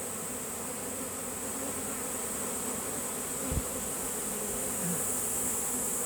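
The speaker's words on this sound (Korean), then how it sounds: "가둬놓으면 꿀벌들이 이렇게 다 따라서 여왕벌 냄새를 맡고 이렇게 다 달라붙습니다" Dense, steady buzzing of a honeybee swarm clustering onto a hive where the queen bee is caged, a continuous close drone with no talk.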